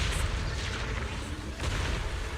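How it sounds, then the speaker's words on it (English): Video game explosions in Zenless Zone Zero, a steady low rumbling barrage of booms and blasts with layered impacts, loud and continuous through the whole stretch. "Move in during the gaps between explosions."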